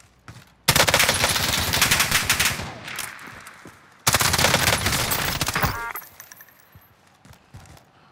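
Rapid automatic gunfire in the Call of Duty Warzone (Cold War era) video game, with an M13 rifle mentioned: two loud sustained bursts of close fire, each lasting a few seconds, separated by a brief pause and trailing into quieter ambience.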